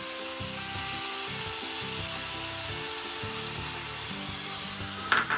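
Chicken chilli gravy bubbles and sizzles steadily in a pan after sauces like soy, chilli sauce and white vinegar go in, with a constant close frying hiss, rhythmic stirring scrapes and a sharp clink near the end.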